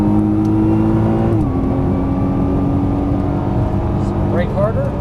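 A Nissan GT-R sports car engine pulls hard on a racetrack, its loud steady drone shifting pitch mid-clip and climbing again near the end, with an instructor's voice talking over it.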